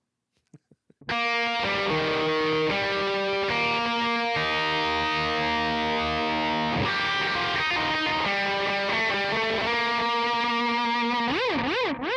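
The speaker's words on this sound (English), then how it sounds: "a delay, which can add an echo type effect or an ambiance to your sound" Electric guitar notes played through a delay pedal, each tone trailing into repeating echoes, sustained and loud after a few quiet plucks at the start.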